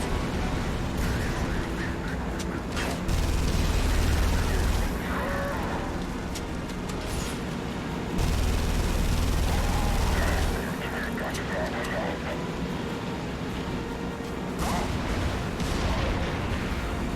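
Gunfire and heavy booming blasts in The Saboteur, a dense, continuous barrage with deep rumbling swells, loud and sustained under background chatter.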